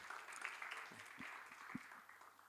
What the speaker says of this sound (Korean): 우리 하나님 앞에 감사의 박수 올려드리겠습니다.